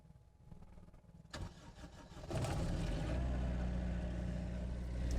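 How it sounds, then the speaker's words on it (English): An Onan generator aboard a Lagoon 450 catamaran cranks briefly and then catches, settling into a steady, loud, close-by running hum. "Under this compartment is the generator."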